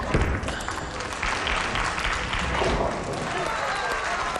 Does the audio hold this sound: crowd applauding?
yes